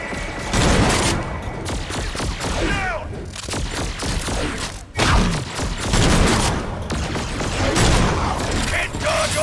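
Gunshots ring out in Agents of Mayhem amid chaotic combat, with rapid cracks, mechanical clatter and thuds layered over loud game effects, and voices talking throughout.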